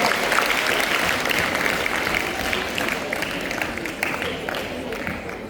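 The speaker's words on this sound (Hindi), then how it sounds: "तो आइए जोरदार तालियों के साथ इनका स्वागत करते हैं" Warm, continuous applause from the audience at a Hindi poetry gathering as a poet is welcomed to the stage, a thick, even roar of clapping that holds steady and eases slightly toward the end, with no voices on top.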